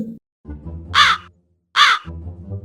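A crow caws twice, loud and close, in an animated cartoon, each harsh call sharp and separate, with low murmuring background sounds in between.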